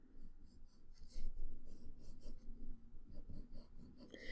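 Pencil sketching a circle on paper for a three-point perspective drawing: soft, continuous scratchy rubbing strokes that swell and fade in quick passes, close and fairly quiet.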